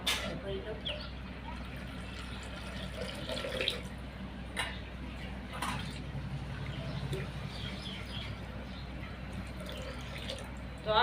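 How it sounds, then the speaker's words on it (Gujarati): Water is poured into clay bird-water pots outdoors, a soft trickling splash running under a nearby voice, with faint birdsong and a few brief knocks in the background. "તો આમાં પાણી રેડવાનું છે"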